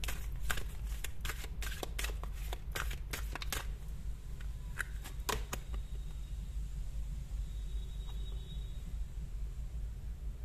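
Tarot cards shuffled by hand in a run of quick riffling flicks, then a few scattered single snaps as cards are drawn, over a steady low background hum, no speech.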